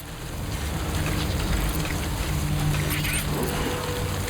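Steady rain in the video game Death Stranding, a constant close hiss of falling water over a low rumble with faint background tones, unbroken throughout and with no voices.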